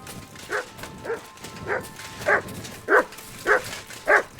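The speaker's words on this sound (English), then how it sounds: "Good dog, Mutz." Mutz the dog in Kingdom Come: Deliverance II barks six or seven times in a steady rhythm, sharp clear barks about half a second apart, close by over a quiet background.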